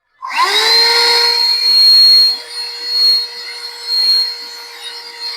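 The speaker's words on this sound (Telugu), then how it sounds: "ఈ వాక్యూమ్ క్లీనర్ అసలు ఎంత ఎఫిషియెంట్ గా వర్క్ చేస్తుందో చూద్దాం" A handheld car vacuum cleaner powered from the car's 12V socket whirs up at switch-on and runs as a steady high-pitched whine, its tone and loudness swelling and dipping as it sucks up dust, very close and loud.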